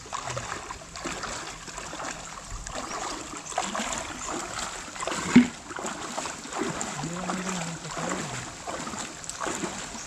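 A wooden boat (bangka) dragging over the bottom of a shallow river, low rough scraping and grinding with water trickling and sloshing around the hull, one louder knock midway and a brief faint voice later.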